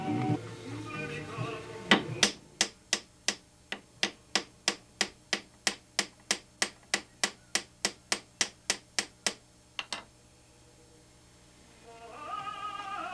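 A hammer beats the end of a heavy duty pin in about twenty sharp metallic blows at a steady, slightly quickening rhythm, each strike crisp and close with a short ring, before the pounding stops and a faint background rustle returns.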